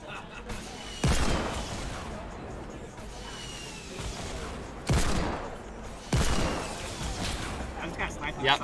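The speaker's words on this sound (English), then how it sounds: "I just got sniped." Sniper rifle shots in Fortnite Battle Royale, several sharp booming cracks spaced a few seconds apart over constant game noise, with players talking throughout.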